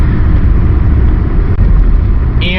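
Ford Mustang with the 4.0 V6 on the road, its idle set to 725 rpm, giving a loud, continuous low engine rumble from inside the car with a slight uneven chop.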